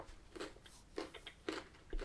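Several crisp bites into a limited-edition mint Daim chocolate bar with an almond crunch centre, four close crunches spaced about half a second apart.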